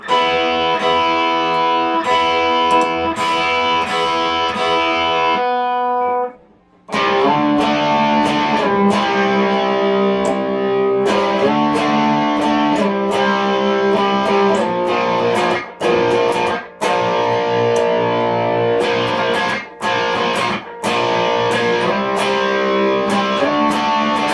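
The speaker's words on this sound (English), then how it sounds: "the distortion from the overdrive with the drive all the way up" Heavily distorted electric guitar through an overdrive pedal with the drive turned fully up, played alone as sustained, dense chords with a brief pause early and a few short breaks, loud and close.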